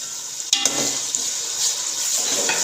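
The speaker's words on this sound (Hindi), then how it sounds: "इसको हम भूनेंगे लहसुन से खुशबू आने तक।" Ginger-garlic paste frying with tomatoes in a pan of softened aloo gobhi matar vegetables gives a steady hiss, with a couple of brief utensil clinks near the start.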